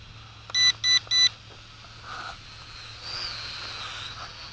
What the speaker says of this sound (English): I don't know what those 3 beeps mean on the flip button